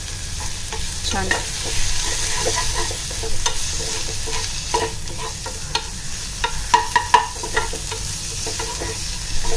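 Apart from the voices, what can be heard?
sautéing onion and coriander for green tomato chutney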